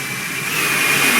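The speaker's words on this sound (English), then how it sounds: "Look at this beautiful GE90 engines warming up" Huge GE90 jet engines spool up in the Project Flight video game, a broad rushing roar with a thin rising whine, steady and close, no talk.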